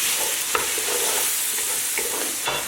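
Onions sizzling steadily in a pan with chicken and ground coriander and garam masala for gongura chicken, with a few sharp scrapes of a stirring utensil cutting through the continuous frying hiss.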